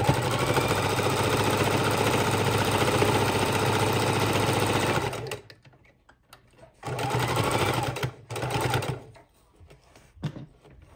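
Sewing machine stitching through a quadruple-folded zipper section of a fabric fidget quilt, a fast steady mechanical whir for about five seconds, then shorter bursts with pauses.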